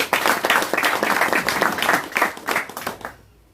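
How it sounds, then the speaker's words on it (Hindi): Crowd clapping at a gathering at a political party office, brisk and fairly close, sustained for about three seconds before tapering off. "इसके लिए जोरदार ताली लगाओ।"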